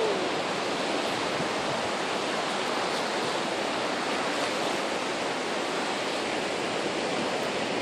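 Steady, broad rushing roar of surf at Wediombo beach, Gunungkidul, Indonesia, waves breaking continuously nearby among coral rocks, loud and unbroken with no voices.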